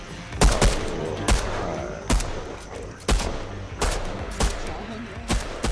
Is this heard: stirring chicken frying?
no